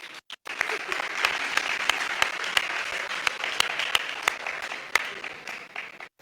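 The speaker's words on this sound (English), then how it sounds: "Big applause for Nikolaya." Audience applause at a theatre hall pitch event, steady and moderately loud, with several sharp individual claps standing out above the crowd for about six seconds.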